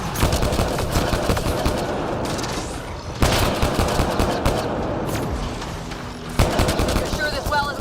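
Sustained gunfire from a turret in the sci-fi shooter Mass Effect: Andromeda, dense rattling bursts with heavy low booms, loud and continuous, with a brief lull near the middle and game chatter underneath.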